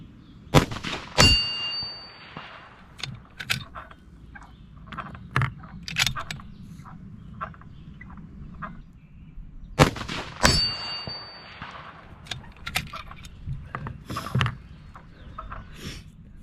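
A 25 Creedmoor rifle fires a group of shots at a freshly painted steel target outdoors, each sharp report followed by a ringing metallic clang, spaced a few seconds apart over a quiet background.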